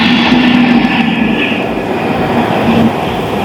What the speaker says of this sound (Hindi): यहाँ से आपको एक लोकोमोटिव भी गुजरता हुआ नजर आएगा